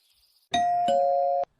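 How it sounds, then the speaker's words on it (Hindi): A two-tone ding-dong doorbell chime rings once, clear and sustained, against near silence. "किसी अजनबी ने दरवाजे की घंटी बजाई"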